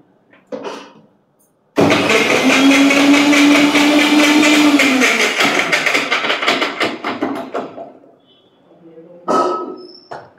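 A mixer grinder whirs loudly, blending avocado with water and sweetener, for about six seconds, then winds down and stops. Brief voices are heard before the motor starts and again after it ends.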